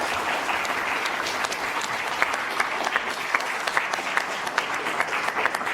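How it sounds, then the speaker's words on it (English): An audience claps steadily for a panel of seven at a STEM careers event, a dense sustained wash of applause with a few sharper individual claps standing out. "Can we give them a round of applause?"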